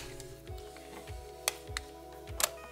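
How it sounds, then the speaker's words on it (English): Rewind crank of a 35mm film camera being turned clockwise, giving a steady run of small mechanical ticks in a regular rhythm with a few sharper clicks, close and quiet, no talking. "Wind it back by turning clockwise for a minute or so until you stop feeling resistance"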